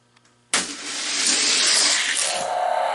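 Die-cast Hot Wheels cars, a Dodge Charger and a Bugatti, roll down a plastic downhill drag track: a sudden loud rushing whir that starts abruptly and holds steady for a few seconds.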